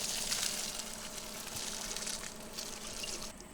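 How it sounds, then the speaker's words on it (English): Cooked soybeans for tempeh being poured into a strainer, a steady rushing splash of water and liquid draining continuously, close by, with no talking. "And now we're going to strain them out."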